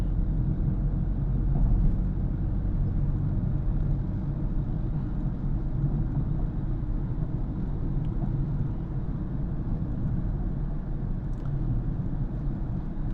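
A car drives through city streets as the driver presses the accelerator, a steady low engine and road rumble with wind noise holding at an even level throughout, no distinct revs standing out.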